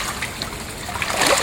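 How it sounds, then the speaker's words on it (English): Sacks are soaked in water for a hangi, with close splashing and trickling of liquid over a short stretch. "soaking the sacks into the water."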